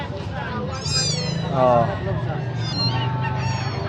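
Cats meow repeatedly at a pet market in Bocaue, Bulacan, with several high, wavering cries heard up close over a steady murmur of crowd noise while people talk.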